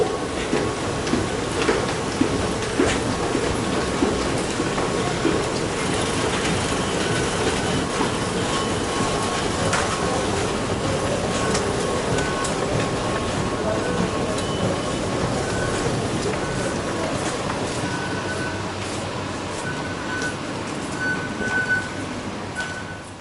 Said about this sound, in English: The train to Rashidia will arrive at Rashidia platform.